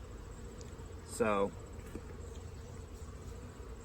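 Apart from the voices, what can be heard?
honey bees buzzing around the hive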